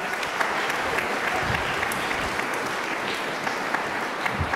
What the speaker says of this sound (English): So let's clap it up for Dr. Sawyer.